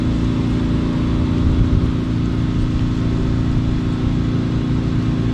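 Truck engines from a nearby Home Depot lot hum steadily and evenly at a distance on a windy, drizzly night, a continuous low drone with no voices.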